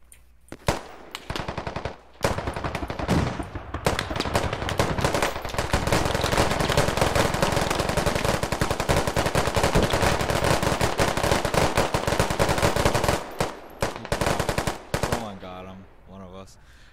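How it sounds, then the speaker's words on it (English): Sustained machine-gun fire in the military shooter game Squad, long dense bursts of rapid shots after a few short opening volleys, loud and close, tapering into scattered shots near the end. "were we all just shooting at that guy running across that top bridge?"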